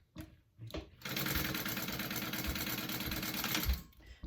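Sewing machine stitching bag connectors, a fast steady mechanical chatter running for about three seconds after a few short starts, close and clear.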